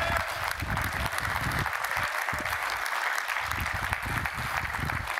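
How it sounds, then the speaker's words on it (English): A live seminar audience applauding, with steady, dense clapping from a crowd that fills the room throughout. "Clap it up, clap it up."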